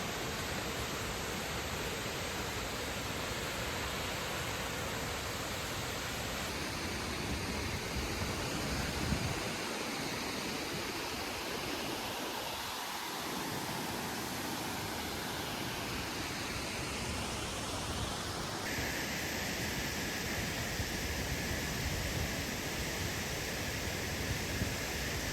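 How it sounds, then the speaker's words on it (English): A waterfall pours into turquoise pools at Minas Viejas in Mexico's sugar cane country, its dense, steady roar filling the scene without a break for the full length. "Turquoise blue water, beautiful waterfall."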